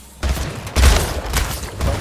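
Rapid battle rifle bursts in the Splitgate arena shooter, loud, close and repeated in quick volleys of clipped shots with no voices.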